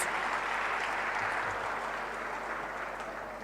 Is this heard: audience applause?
yes